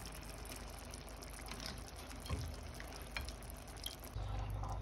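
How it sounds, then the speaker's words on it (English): Paneer cubes lifted from a bowl of soaking water with a slotted spoon, giving soft watery splashes and drips that run steadily, with a fuller wet slosh near the end. "I'm just going to grab a slotted spoon and start adding in the paneer"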